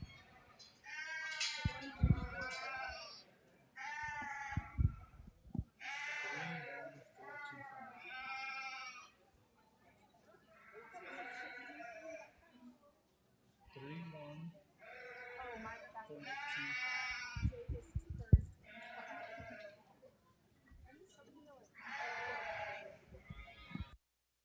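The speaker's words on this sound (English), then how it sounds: "All right, Class 2 hair sheep are in the ring." Hair sheep in a youth livestock show ring bleat repeatedly, with loud, wavering calls that come in bursts with short pauses between them, close by and with no one speaking over them.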